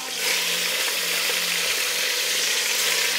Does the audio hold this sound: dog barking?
no